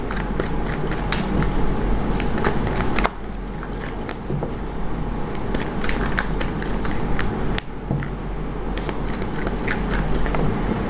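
Tarot cards are shuffled over and over, giving crisp riffling flutters and dense papery clicks that run close and steady with no voices, dipping briefly twice.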